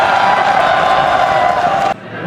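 Loud crowd roar at a FlipTop battle rap event, a dense sustained wall of cheering and whooping that holds steady, then cuts off abruptly near the end, leaving a quieter room tone.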